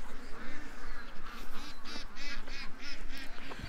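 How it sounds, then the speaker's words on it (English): A crowd of ducks quacking loudly and nearly continuously as the flock comes in at a farm gate, with honking and overlapping calls at close range. "The ducks are coming."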